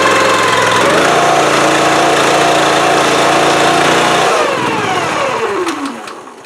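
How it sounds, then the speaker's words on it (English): Honda engine on a Rugged Split 37-ton log splitter, running loud and close at a steady high throttle, then throttling back and winding down toward quiet. "That's why I buy a Honda engine. It starts."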